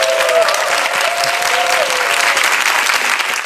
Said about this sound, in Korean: 뜨겁게 감사의 박수 할까요?